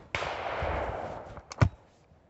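A shotgun fires at a clay target during a shooting lesson, one sharp close blast followed by a short echoing tail, then a couple of quieter knocks and clicks.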